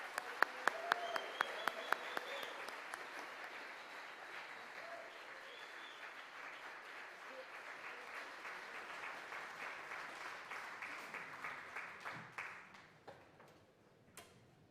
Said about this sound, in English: let's give Will and his band one more big round of applause